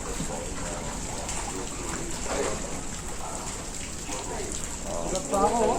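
Floodwater fills a street in Sampaloc, Manila, and gives a constant, loud wash of rain-like splashing and rushing water throughout, with voices talking over it.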